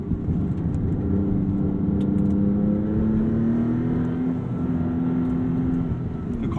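A 2022 Maserati MC20 pulls hard from inside the cabin, its engine drone climbing steadily in pitch. The rise breaks off with a quick, seamless gear change and then climbs again, loud and continuous, with no talking.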